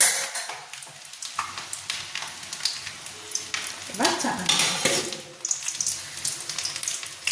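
Eggs fry in a kadai for an egg prawn biryani, a steady broadband sizzle with scraping stirs and clinks of a spatula, close and loud, while a voice speaks briefly over it.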